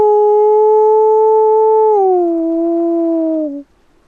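A man imitates a lone wolf howl to call wolves: a single drawn-out, tonal voice howl held steady, then sliding lower and cutting off quickly, clear and alone.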